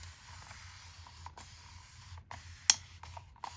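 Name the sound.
spray bottle spraying water onto watercolor painting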